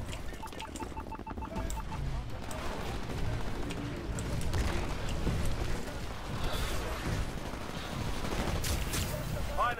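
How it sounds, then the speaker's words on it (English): Rifle gunfire aimed at a Titan in Titanfall crackles as a dense, sustained volley of shots mixed with heavy combat noise and booms, loud and continuous throughout. "Some idiot shot a rifle at a Titan in the window"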